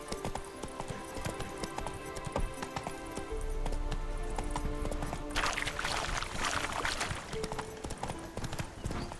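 Horse hooves trotting in The Witcher 3: Wild Hunt, a steady clip-clop rhythm that keeps going throughout, with game ambience and a louder rushing swell partway through.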